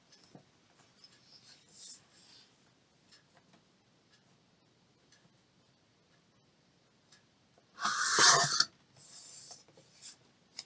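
Scissors cut a sheet of paper down slightly to form a page pocket, a short, close rasping snip burst after quiet handling rustles, then a couple of lighter snips.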